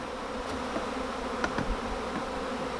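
Honey bees buzz steadily close by, a dense droning hum with a few brief louder passes and no voices.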